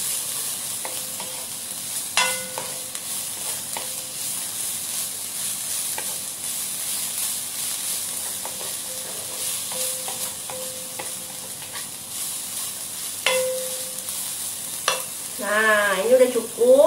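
Tuna and mushroom stir-fry sizzles steadily in a pan, a continuous frying hiss with occasional stirring scrapes and clinks, close and moderately loud, with no talking.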